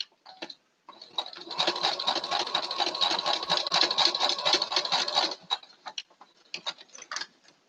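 A sewing machine back stitching runs in a steady, fast mechanical whir for about four seconds, with short stop-start bursts of stitching before and after.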